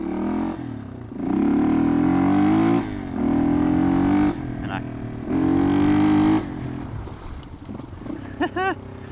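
Yamaha XT225 dirt bike with Kenda TrackMaster 2 tires, rear wheel stepping out off-road: a single-cylinder engine revs up in three loud surges with pauses between, rattly and close, ending with a brief squealing sound.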